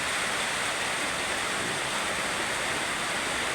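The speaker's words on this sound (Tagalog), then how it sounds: "Tumutulo yung bubong guys, tumutulo," Overnight rainwater leaks through a house roof, pouring as a steady, dense hiss of running water with no separate drips standing out.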